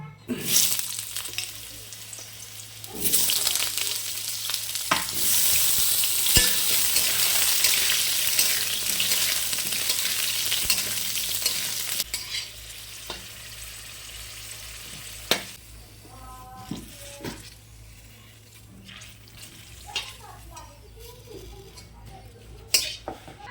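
Food fries in a pan for a Bengali shukto, first with a loud, rushing sizzle that later fades to a quieter crackle, mixed with scattered clinks of utensils against the pan.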